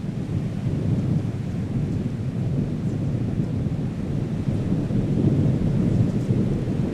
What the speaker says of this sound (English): Suddenly, a storm draws near.